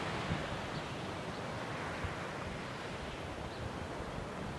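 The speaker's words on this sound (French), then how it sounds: "C'est l'océan." Ocean waves along the Cambaie coastal path make a steady, dense wash of surf with a windy hiss and no distinct breaks between swells. There is no talking.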